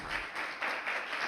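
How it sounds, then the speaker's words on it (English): Brief online-conference applause for a presentation at an English teaching and technology convention, a short burst of soft, even clapping with no voices. "So please, let's give them a round of applause."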